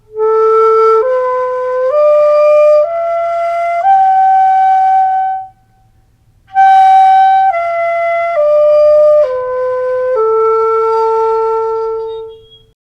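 A hitoyogiri, a short Japanese end-blown bamboo flute, plays a calm melody in the summer mode Oshiki: clear sustained breathy tones stepping between pitches in two phrases separated by a brief pause, solo and close.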